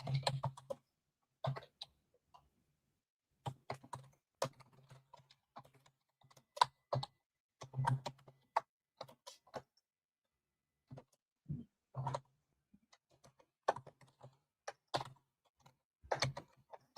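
Sparse, scattered clicks from a computer keyboard as a comment is typed, close and quiet, with irregular taps and long silent gaps spread over the stretch.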